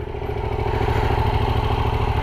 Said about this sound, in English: So what does the engine actually sound like?